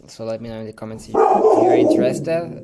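A pet dog barks indoors in a few sharp, close, loud yips that overlap someone talking, then a longer whining bark follows under his continuing speech.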